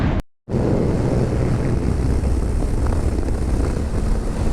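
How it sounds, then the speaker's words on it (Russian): Strong wind roars steadily and loudly across the microphone on a motorcycle trip through the desert of Yucca Valley, buffeting it continuously after a brief moment of silence at the start. "Ветер конкретно здесь."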